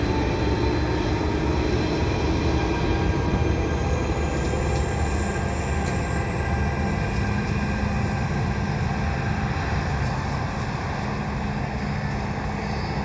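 A train rolls past at Dorval with CP and EXO locomotives, including a CP Heritage SD70ACU and an EXO ALP45DP commuter unit, giving a steady loud rumble with faint high squeals over the top.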